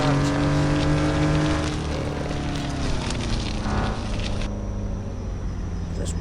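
Engine drone of a new Chevy work truck while driving, steady and fairly loud with a harmonic hum that shifts pitch slightly as it cruises, no talking.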